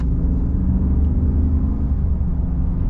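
Steady low rumble of a 2022 Ram 2500 Power Wagon pickup's 6.4-liter Hemi V8 while driving, a smooth continuous drone with no voices.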